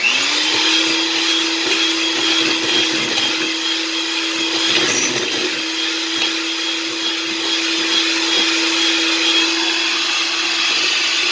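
An electric mixer whirring through melted butter and evaporated milk, a steady close motor drone with a constant pitch that holds throughout, loud and alone.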